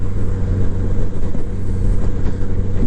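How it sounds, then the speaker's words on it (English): A 2022 Honda Gold Wing motorcycle out on the road, its deep engine rumble and wind roar loud and steady, with no voices over it. "I'm riding my Goldwing, and I'm going to be riding it all over the place"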